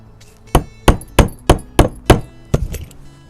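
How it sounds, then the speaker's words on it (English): A hammer taps a stuck driver-side door lock cylinder tumbler on a Toyota 4Runner, giving about eight sharp, close metallic knocks at an even rhythm with a short pause before the last few. "Ah, the hammer worked. I just tapped it down and boom, pop right out."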